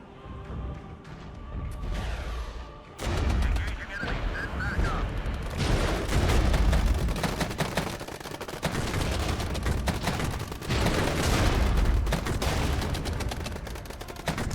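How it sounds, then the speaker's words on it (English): Cluster bomb strike in the modern Cold War game Regiments: a long loud barrage of rapid crackling blasts and rumbling detonations that rolls on for many seconds. "I think I'm just going to bring in cluster bombs here."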